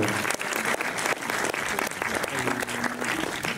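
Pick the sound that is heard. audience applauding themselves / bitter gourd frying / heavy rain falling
audience applauding themselves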